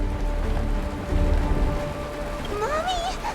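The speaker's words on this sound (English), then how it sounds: "It's raining." Rain falls steadily in the video game Honkai: Star Rail, a constant hiss with a low rumble beneath it, while tonal music and a rising, warbling melodic sound come in toward the end.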